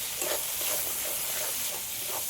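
Spices with chilli powder sautéing in a pan, a steady close sizzle and hiss with soft scraping stirs recurring every half second or so.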